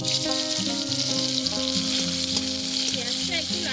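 Whole onion sizzles loudly in hot oil tempered with bay leaf, dried chilli and cumin seeds, making a constant bright crackle. Melodic background music plays alongside it the whole time.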